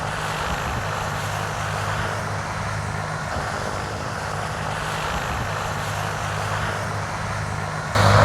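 A BK 117 helicopter's jet engines run on a cold Canadian winter day, giving a loud, steady turbine roar and whine that fills the whole stretch without any speech.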